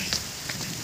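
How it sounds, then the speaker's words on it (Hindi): Heavy rain pours down steadily during a wedding trip in Jammu. It makes a dense, continuous patter with sharper drops splashing nearby, and no one speaks. "बारिश ही बहुत ज्यादा हो रही है।"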